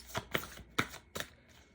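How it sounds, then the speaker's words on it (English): Two decks, an Alice in Wonderland deck and Heal Yourself reading cards, are shuffled together in four soft, papery riffling bursts, close but quiet, with no talk. "they're not shuffling as much as I hoped"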